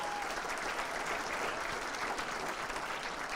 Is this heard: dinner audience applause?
yes